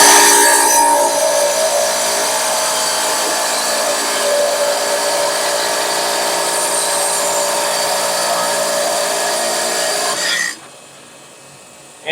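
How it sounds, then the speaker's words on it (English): A lapidary trim saw grinds steadily through agate rock, a loud continuous high whine with gritty rasping that holds for about ten seconds and then cuts off abruptly, leaving only a faint residual hum. "you can just go at them with your trim saw."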